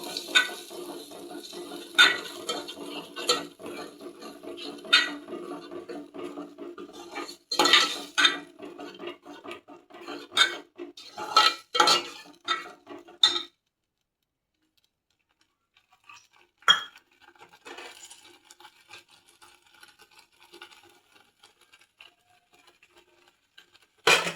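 Masala for restaurant-style rajma being stirred in a pan, with irregular scraping and clinking of a spoon against metal that stops abruptly midway, then a few faint scrapes return.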